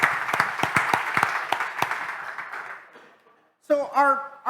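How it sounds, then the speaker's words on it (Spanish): A congregation at a bilingual Bible lesson on 1 Samuel claps together, a short burst of scattered, distinct hand claps that thins out and fades to near silence before a voice begins speaking. "So give yourself a hand because you just finished the book."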